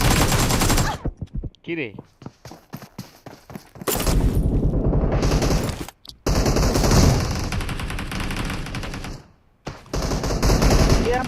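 Rapid gunfire from a first-person shooter game during a live stream, with dense bursts of automatic shots and sharp single cracks broken by short gaps, while a player speaks briefly over the action.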